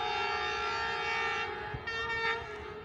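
The Allama Iqbal Express passenger train, hauled by a ZCU 30 locomotive, sounds a long, loud, sustained horn blast over rumbling rail noise at Airport Railway Station, with the tone wavering slightly as it continues.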